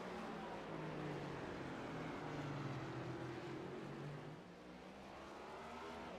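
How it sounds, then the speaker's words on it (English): A race car engine drones steadily in a stock-car style racing video game during a season finale race, a continuous loud whine that holds level and dips slightly toward the end, with no talk. "That 95 Lightning McQueen car has been absolute lightning tonight."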